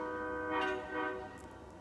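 A train horn sounds near a parked old USAF train car beside a cemetery at night, a steady chord held under low rumble that swells and fades for almost two seconds.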